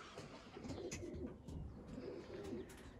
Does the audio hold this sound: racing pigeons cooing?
yes